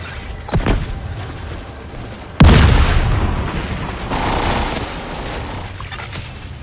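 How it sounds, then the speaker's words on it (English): Incoming mortar fire in The Division 2 video game: a heavy boom hits partway through, followed by rumbling blast noise and scattered explosive thuds, loud and close. "That mortar is back online. You've got incoming."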